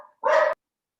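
A dog gives a single short, loud bark close by, sharp and abrupt, followed by silence.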